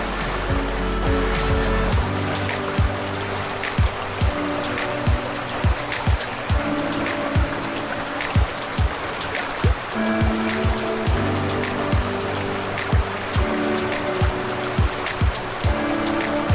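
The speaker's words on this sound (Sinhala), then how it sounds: "හැටන් කඳු කරේ හැංගිලා තියෙන ගාඩ්මෝ ඇල්ල ඇත්තටම තාමත් ස්වභාවික බව සුරකිමින් තියෙන දියැලක්" Gartmore waterfall in the Hatton hills of Sri Lanka pours with a continuous broad rushing roar that holds steady and fairly loud, broken by occasional faint clicks.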